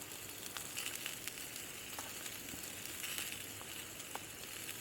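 Onions frying on a Fire Maple camping stove give a soft, steady sizzle with occasional small pops, faint and continuous in the quiet open air.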